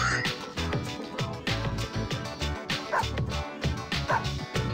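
Several dogs in the video game Persona 3 Portable bark, yip and whimper in quick repeated bursts, close and lively against other in-game sound.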